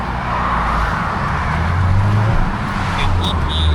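Delivery van cruising onto a UK motorway in Northern Ireland, a steady engine and road roar from inside the cab, with a low hum rising midway and faint higher tones near the end, no talk.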